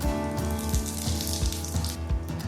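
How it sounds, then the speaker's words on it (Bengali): Dried whole red chili and panch phoron sizzle steadily in hot oil for a pumpkin-greens chorchori, a continuous close frying crackle with no voices. "ফোড়নটা ভাজা হয়ে গেছে"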